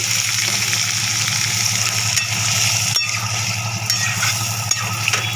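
A little water poured into a spicy fish curry of tangra fish, potato and eggplant frying in a pan: steady loud sizzle and bubbling hiss with a few sharp clicks, close up and continuous without speech.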